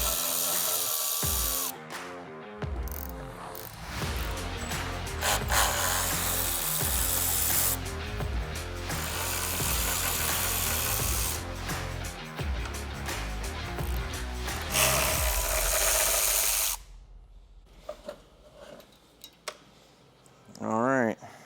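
Bursts of a power tool whirring on Toyota Tacoma rear bumper bolts with a 12mm socket, loud and close, interrupted by short pauses, then quieter rattles and handling noises near the end.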